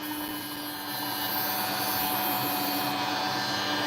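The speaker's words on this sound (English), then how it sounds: "as you grind, the vibration of the machine will actually extend the crack further" Rotary grinding machine carving into a cracked opal stone, a steady broadband whine with a high hiss that grows slightly louder and stays continuous and close throughout, with no talking.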